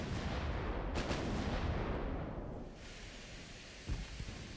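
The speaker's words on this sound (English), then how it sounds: "I'm pretty sure these are either 7 or 8 inch guns by just the chunkiness of how they sound" Heavy naval gunfire from cruiser 7 or 8 inch guns in the Ultimate Admiral: Dreadnoughts game: a loud, dense rumbling barrage with sharp booms near the start, easing into a steady roar, then a fresh thud near the end.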